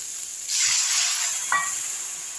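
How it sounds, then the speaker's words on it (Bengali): Water poured into a sizzling, fried spice paste for egg curry sets off a loud hiss that rises suddenly, holds steady as a close, bright sizzle, and gives a brief crackle near the end. "এর মধ্যে আমি এখন জল ঢেলে দিচ্ছি।"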